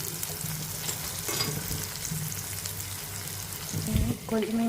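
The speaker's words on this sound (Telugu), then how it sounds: "కొంచెం కరివేపాకు వేసుకొని ఆనియన్స్ బాగా ఫ్రై చేయాలి" Onions frying in oil in a home kitchen: a moderate sizzle with stirring scrapes, ending in a brief splash or tap-like water sound and some clatter.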